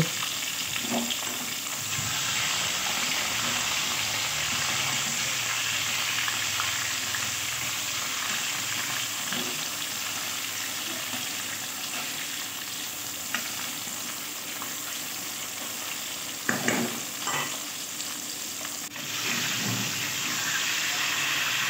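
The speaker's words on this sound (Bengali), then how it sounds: "এবার আমি ঝিঙেগুলো ভেজে নেব" Ridge gourd pieces fry in hot oil, probably in oil left from frying rohu fish. A loud, dense sizzle holds steady throughout, with a few brief stirring knocks near the end.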